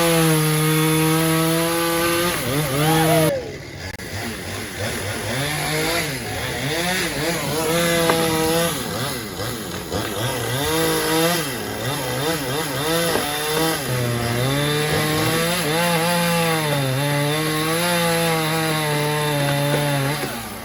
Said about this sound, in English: Chainsaws are the magic sound in this neighborhood these days.